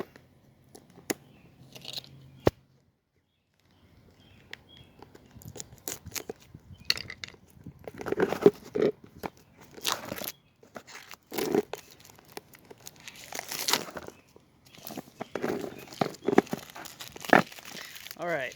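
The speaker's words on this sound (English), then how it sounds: "so plastic's off. It's a nice little plastic wrap." Plastic wrap being torn and pulled off a PinePhone Community Edition box, heard up close as a run of crinkling, crackling and ripping bursts that grows busier and louder toward the end.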